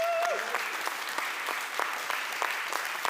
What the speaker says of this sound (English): please give a big applause to yourselves